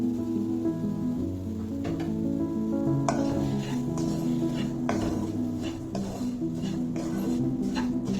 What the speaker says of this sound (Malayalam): ഇതിലേക്ക് നമുക്കൊരു കപ്പ് റവ ചേർത്ത് കൊടുക്കാം.